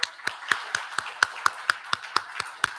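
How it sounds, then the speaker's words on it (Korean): Steady rhythmic applause from a church congregation during a Sunday service, a run of sharp, evenly spaced claps for nearly three seconds with no talking. "예, 박수하겠습니다."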